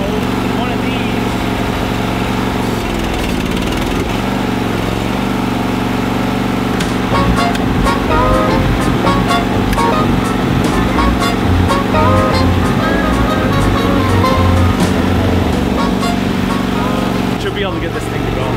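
A Toro greens aerator engine needing carburetor work runs loud and near, a steady rough drone with irregular knocking, while a person talks over it.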